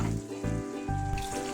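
Minced meat (kothu kari) sautéing in a pan, a steady close sizzle with crackling and light stirring scrapes running throughout, no voices.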